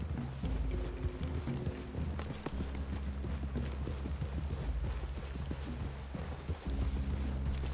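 Horse hooves clip-clopping in the open-world game Red Dead Redemption 2, a steady trotting patter over a low ambient rumble at moderate distance, no talk.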